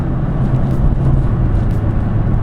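A 2018 Kia K3 with a CVT transmission accelerates, giving a loud, steady engine and road drone heard from inside the car, continuous and even for a couple of seconds with no talk.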